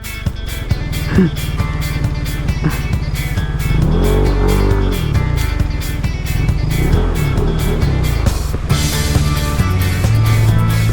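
A motorcycle is ridden along a road past waterfalls in Suyo, Ilocos Sur, its engine running loud and close with a buzzing drone that rises and falls as the rider shifts and accelerates.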